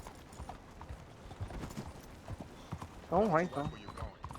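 A ridden horse in Red Dead Redemption 2 trots with quick, clear hoofbeats while someone talks over the game audio and a brief tonal call rises near the end.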